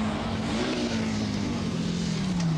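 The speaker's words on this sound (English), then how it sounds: "the ever spectacular and loud John Bosch with his Audi Quattro" Ex-works Audi Quattro four-wheel-drive rally car at the 1985 Limburgia Rally, its engine a loud sustained roar with a slowly falling pitch, continuous and close for a few seconds.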